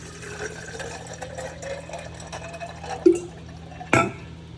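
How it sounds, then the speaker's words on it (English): Ice and water go into a 32oz Owala Shy Marshmallow bottle: a soft running trickle of liquid, then two sharp clinks of ice striking the bottle near the end, close and fairly quiet. "if you put ice in water"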